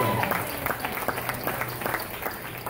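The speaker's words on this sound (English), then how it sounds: "Please give her a big round of applause." A crowd applauding steadily at a swing dance competition, dense clapping sustained throughout with no pauses.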